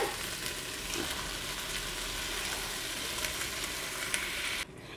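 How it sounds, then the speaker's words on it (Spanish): Chicken sizzles and fries steadily close up, with a faint clink near the end as sauce is poured in and the sizzle suddenly drops quieter. "Ya que se empezó a dorar nuestro pollo, ahora sí le vamos a vaciar nuestra salsita"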